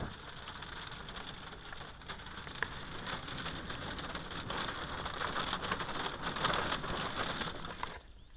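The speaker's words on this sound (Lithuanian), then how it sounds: "ir lauk, kol praeis lietus." Steady rain pours down outdoors during a storm, a dense, continuous hiss across the whole stretch with no pauses, fairly close and even in loudness before dropping off abruptly at the very end.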